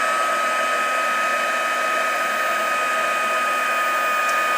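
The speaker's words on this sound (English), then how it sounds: "I hold my heat gun" A heat gun blows steadily at close range while heating chipboard for embossing, a continuous airy hiss with a bright whine that holds level throughout, with no talk.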